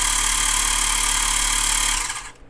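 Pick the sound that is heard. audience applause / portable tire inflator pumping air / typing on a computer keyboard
portable tire inflator pumping air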